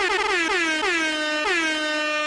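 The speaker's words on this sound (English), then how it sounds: "We need that air horn sound right in there." A blaring air horn sound effect fires in several rapid repeated blasts, each a loud, brassy tone that drops slightly in pitch, stacked back to back with nothing else heard.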